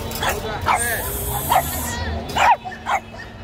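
A few short barks and yips from a dog nearby at a dog and puppy market, irregular and spaced apart, over a faint background hum.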